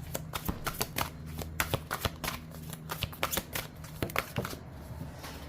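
Tarot cards riffled and shuffled by hand, a quick run of soft papery flutters and taps, close and quiet with no voices.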